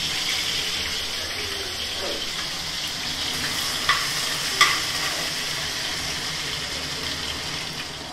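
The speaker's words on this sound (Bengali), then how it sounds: "আদাটা একটু ভাজা ভাজা করে নিই।" Ginger frying in a pan, a steady dense sizzle with soft scraping stirs and a couple of sharp clinks of the spoon against the pan, close and continuous throughout.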